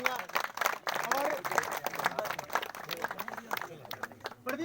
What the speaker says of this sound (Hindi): मैं जोरदार तालियों से स्वागत चाहूंगा,